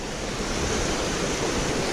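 A river rushing near Bwindi village in Uganda, close to a forested national park, heard as a steady, dense roar of flowing water that fills the whole moment with no voices.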